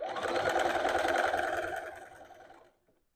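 A sewing machine runs a steady, fast stitch along a dress collar facing, close and loud for about two and a half seconds before slowing and stopping.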